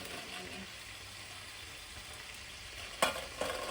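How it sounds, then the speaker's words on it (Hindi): Kebabs frying in a pan in a home kitchen, a steady soft sizzle running throughout with a couple of brief clatters near the end; no talking. "यहाँ पे मेरे कबाब भी तल के रेडी हो गए हैं"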